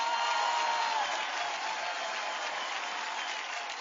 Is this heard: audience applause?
yes